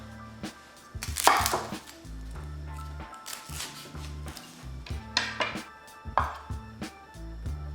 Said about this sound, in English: we're gonna go ahead and chop our shallot here.